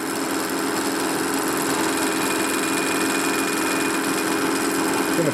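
A machine cuts a part for a Harley shovelhead big-bore stroker motor, giving a steady, loud mechanical whine and hum with no breaks, close by and heard alone.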